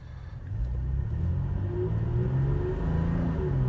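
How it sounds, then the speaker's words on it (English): A 2019 Toyota Tacoma TRD Sport V6 pickup accelerates, its engine rumbling low and steady from inside the cab, the pitch climbing gradually with no talk over it. "Very peppy. Got good acceleration. Good throttle response."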